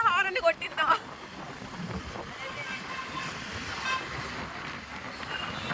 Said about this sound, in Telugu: నేను బండి ఎక్కడం పుణ్యాన హారన్ మోగిందని ఎన్నిసార్లు హారన్ కొట్టిందో.